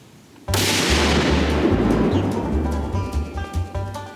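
A single .300 Win Mag rifle shot fired from a prone position at water jugs cracks out loudly, then rolls away in a long echoing decay while birds coo and call nearby.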